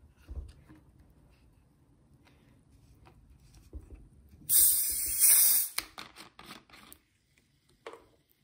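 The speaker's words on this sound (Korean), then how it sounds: "준비한 콜라를 열어서" A can of cola is cracked open with a sharp hiss and then poured into a container holding a Galaxy Note 10 Plus, a loud fizzing burst followed by splashing patter that fades to quiet.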